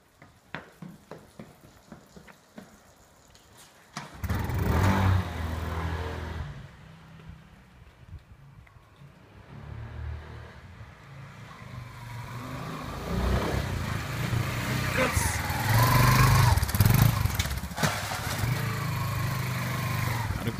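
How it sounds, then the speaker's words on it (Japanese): Scuffing and clicking noises as an ST250E cafe racer motorcycle is push-started, then its engine suddenly catches and keeps running, idling roughly and revving louder toward the end. "いや、エンジンがかかった。"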